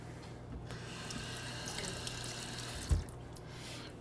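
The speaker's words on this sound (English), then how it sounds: "All right, we'll do a quick wash," Tap water runs steadily into a sink as a head of cauliflower is washed, a soft continuous splashing flow with a brief thump near the end.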